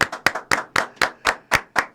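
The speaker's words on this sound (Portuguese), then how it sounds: "uma salva de palmas para Caio Tenório" Eight sharp, evenly spaced claps ring out about four per second, loud and close, welcoming podcast guest Caio Tenório onto a football podcast; no talk over them.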